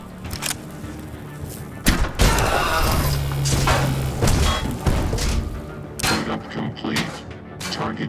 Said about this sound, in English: the Medbot's explosion has alerted the Z600